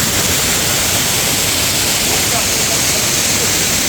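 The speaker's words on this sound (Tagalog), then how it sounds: "Mantayupan falls" Mantayupan Falls, a waterfall in Barili, Cebu, roars as a steady, loud, dense wash of falling water with no breaks.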